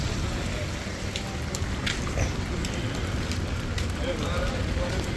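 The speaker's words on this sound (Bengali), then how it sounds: "আবার বৃষ্টি শুরু হয়ে যাচ্ছে" Rain falls steadily on a street in Al Satwa, Dubai. The hiss is continuous and broadband, with scattered sharper drop ticks and faint street ambience.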